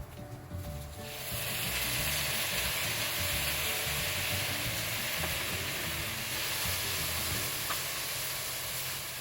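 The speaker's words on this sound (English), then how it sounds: "you're going to saute for about an additional 2 minutes until your corn gets softened" Corn and zucchini sautéing in oil with garlic in a pan, a steady even sizzle and hiss that swells after the first second and holds constant.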